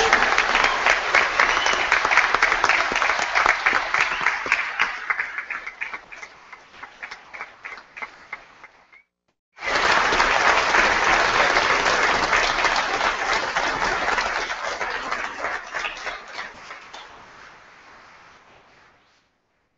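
Convocation crowd clapping for agricultural college graduates: loud continuous applause that tapers off, breaks briefly, then surges again and slowly fades out.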